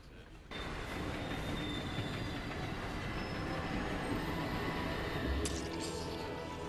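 A train rolls along in the video game Resident Evil 0, a steady loud rumbling ride with rattling carriages, faint wheel squeals and a brief clank near the end, without talk.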